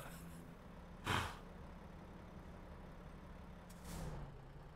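A truck idles at a traffic light, its low engine drone steady beneath two sharp air-brake hisses, one short burst early and a softer release later, with no talk.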